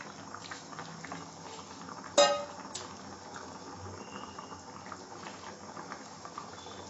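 A spicy tomato crab curry simmers in a pot with soft, low, continuous bubbling, broken once by a sharp utensil clank against the pot.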